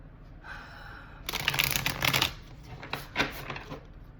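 A deck of tarot animal spirit cards being shuffled close up, with a quick riffling flutter followed by a second shorter burst of snapping cards.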